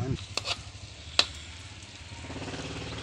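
Dried fish sizzles in a pan with soft crackling, a few sharp clinks of a utensil against the pan, and a low frying hiss underneath, heard close and fairly quiet.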